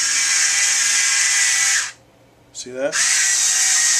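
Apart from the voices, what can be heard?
electric wine bottle opener removing a cork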